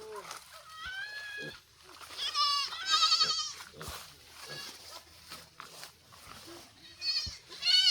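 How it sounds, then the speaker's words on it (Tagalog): Goats bleat repeatedly while being herded in the late afternoon by Indigenous farmers in Mindoro, many overlapping calls near and far, with people talking and calling among them. "Kinukuha na po nila yung mga kambing."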